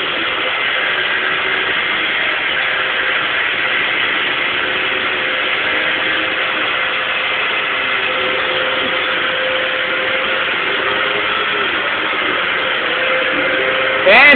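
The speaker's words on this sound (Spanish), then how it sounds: "Aquí está Andrew, que cada vez que vamos a aspirar, siempre está así, subido en la aspiradora." A household vacuum cleaner runs steadily and loudly throughout with a constant whine, without pause, while a small child sits riding on top of the vacuum cleaner.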